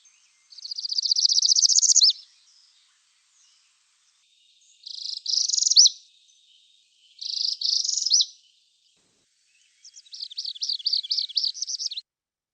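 Northern parula song repeated in four separate high, buzzy rising trills with clean silent gaps between them, crisp and isolated in a woodland recording.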